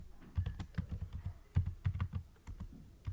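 Close, quick keystrokes on a computer keyboard come in short irregular bursts with brief pauses between them, no voices present.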